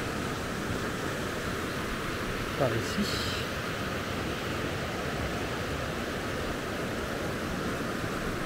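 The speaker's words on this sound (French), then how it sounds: "Alors je vous montre un peu la rivière." Steady broadband rush of a river flowing along a northern Norwegian route near the Arctic Circle, constant and fairly close, with a brief spoken remark partway through.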